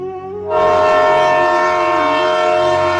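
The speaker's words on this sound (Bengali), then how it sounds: "আমি কিছু বলার আগেই বাইরে দাঁড়িয়ে থাকা ট্রেনটা হুইসেল দিল" A loud, sustained train whistle blares from about half a second in, holding a steady chord-like tone for the rest of the clip, with no talk.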